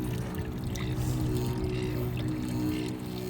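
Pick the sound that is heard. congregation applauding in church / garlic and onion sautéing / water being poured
water being poured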